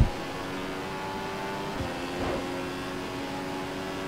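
A Formula 1 race car in the F1 2015 racing game, driven at the Italian Grand Prix, holds a steady high-pitched engine whine at speed, with a brief surge in revs midway and no talking.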